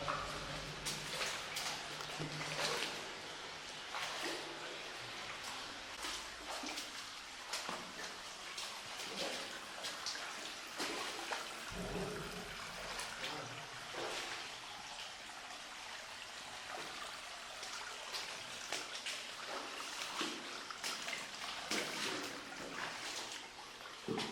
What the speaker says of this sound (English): I think it's probably just coming down a bit of a waterfall somewhere.